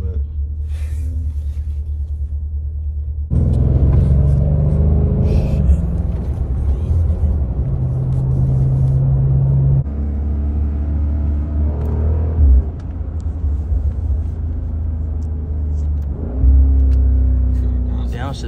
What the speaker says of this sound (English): Downshifts sound crazy.